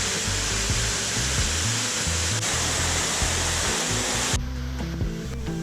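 A waterfall pours into a natural pool in the Bali jungle near Ubud, a loud and steady close rush of water with no talking.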